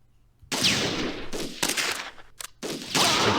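Units focusing fire in the Close Combat 3 war game, dense bursts of rifle and machine-gun fire crackling loudly in several volleys with brief gaps between them.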